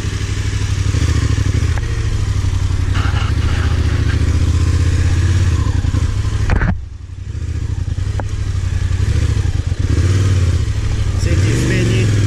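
A motorcycle engine idles steadily at close range, low and rumbling throughout, with a few clunks and a brief dip partway through as people talk over it.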